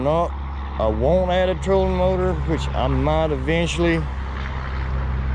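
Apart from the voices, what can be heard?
traffic passing by on a nearby main highway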